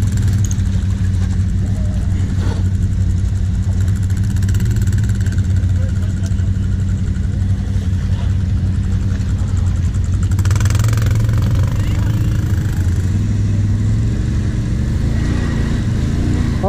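A Kawasaki KVF quad off-road, stuck in the ground, with its engine running loud and close the whole time at a steady, throaty idle and a slight rise in pitch partway through, with no talk over it.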